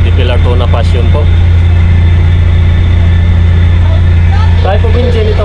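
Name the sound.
Yanmar 600 horsepower engine of passenger vessel running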